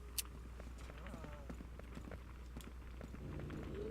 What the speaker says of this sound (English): So I hear footsteps.